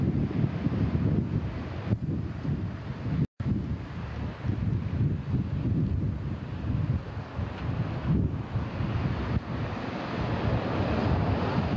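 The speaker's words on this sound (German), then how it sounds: "Es ist windig, der Ozean und der Leuchtturm." Wind-blown ocean surf rolls near a lighthouse on the coast, a steady loud roar of waves mixed with heavy wind buffeting on the microphone, alone, with one brief dropout.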